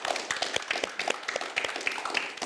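A small audience claps for about two seconds, with the individual handclaps sounding sparse, fairly close and moderately quiet.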